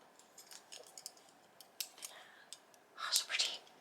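Quiet metallic snips and clicks of scissors being handled, scattered and light, ending in a couple of brisker rustling snaps.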